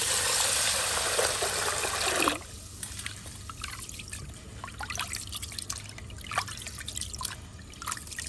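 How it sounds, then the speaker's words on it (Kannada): Parboiled rice being washed in water for a Mangalorean lunch: a loud rush of swirling, pouring water for about two seconds, then quieter drips, trickles and light sloshing until the end, with no talk. "ಇದನ್ನ ಚೆನ್ನಾಗಿ ಈಗ ತೊಳಿಬೇಕು ಮೂರು ಸತಿ ನೀರಲ್ಲಿ ತೊಳೆದು"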